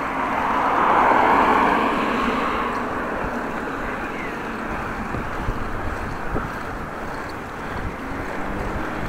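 Strong wind buffeting during an outdoor bike ride, a continuous broad roar that swells loudest early on and then settles into a steadier rush.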